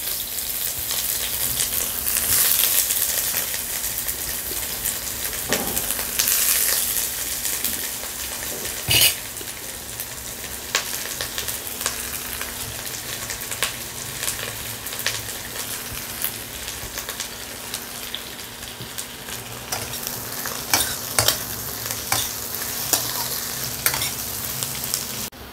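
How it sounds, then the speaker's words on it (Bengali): Chopped onions crackle and sizzle steadily in hot oil for Dorbari chicken. A spoon scrapes and stirs them in the pan with occasional sharp clinks, loud and close, with no talking. "তেল গরম হয়ে গেছে, এবার দিয়ে দিচ্ছি কুচনো পেঁয়াজ।"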